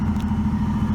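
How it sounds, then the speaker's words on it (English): A 1980 Buick Regal turbo with a draw-through turbo setup idles steadily after starting, a close, even low rumble with a constant hum and no revving. "Listen to this car run a little bit"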